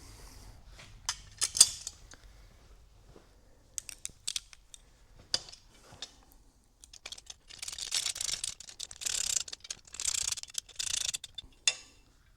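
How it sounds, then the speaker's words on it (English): Allen key and socket tighten the bolts of a rear rack on a Suzuki DR-Z400S motorcycle, producing scattered light metallic clicks and scrapes and then denser rattling tool strokes, close and fairly quiet, with no talking. "I'm going to go ahead and snug everything down here, but not, like I said, not completely tight on the 4 outer bolts"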